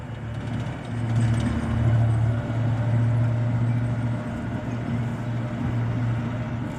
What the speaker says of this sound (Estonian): Soomusmasinad manööverdavad.